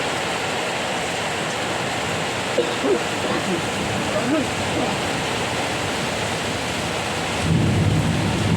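Heavy rain pouring down steadily with thunder, a dense continuous roar with a low rumble near the end.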